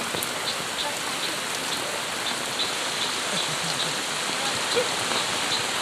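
Heavy rain pours down in a dense, unbroken roar of drops on surfaces, close and constant throughout.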